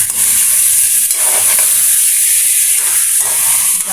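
Chicken sautés in a hot pan, a loud continuous sizzle and hiss with stirring scrapes that surge around the middle and again toward the end.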